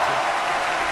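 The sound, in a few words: applause sound effect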